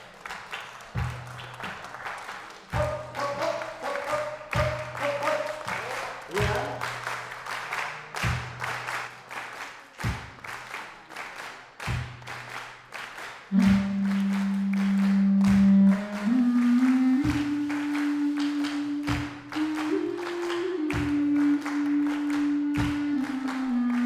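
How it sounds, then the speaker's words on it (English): Audience clapping in unison at a benefit concert, steady rhythmic claps keeping time with live music, which swells into a sustained melody partway through. "Let's clap together."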